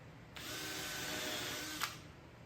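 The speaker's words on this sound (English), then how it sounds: "clamp from underneath the 2x4s, and then just pre-drill and stick it in place" A power drill pre-drills into a 2x4 block while building an MDF infeed table for a table saw, running as one loud, steady whine for about a second and a half before stopping, with no talk over it.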